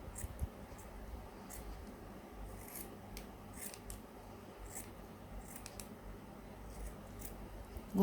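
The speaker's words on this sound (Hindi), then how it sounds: "फिर हम इसके ऊपर से छटाई करेंगे, इस तरह से काटना शुरू करेंगे।" Scissors snipping around a yarn pom-pom to trim it into a ball, a run of quick soft crisp cuts with rustling fibres, close and fairly quiet, repeating irregularly.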